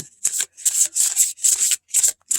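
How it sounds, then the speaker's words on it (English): Tarot cards with gilded edges being shuffled in quick riffling bursts, about six close, crisp rustling passes with short pauses between them. "Let's see how it shuffles here."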